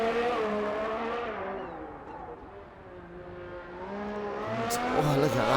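Racing car from a driving game, Singapore circuit, working hard through a tight final chicane in wet conditions, engine note dipping and rising with gear changes and a brief tire squeal near the end, under a commentator's voice.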